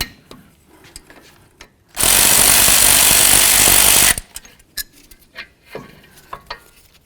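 A Jeep Liberty caliper slider bolt is broken loose with a 13mm wrench, a loud burst of grinding, ratcheting mechanical noise lasting about two seconds, close up, with softer clicks and handling sounds before and after.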